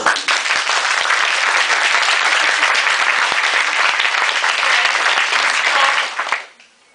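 Loud, dense clapping from a classroom audience during a focus game, sustained evenly for about six seconds before quickly dying away into near silence.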